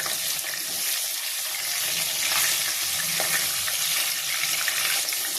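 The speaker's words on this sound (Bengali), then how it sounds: "আমি একটু হালকা করে ভেজে নিলাম" Pieces of fish fry lightly in oil, producing a dense, even sizzle and bubbling hiss that stays loud and steady throughout.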